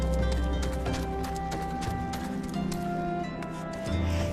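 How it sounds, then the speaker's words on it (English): Hooves of a large horse clip-clop at a steady walking rhythm in a story-driven video game, set over a sustained musical score with a brief swell near the end. "Big ass horse."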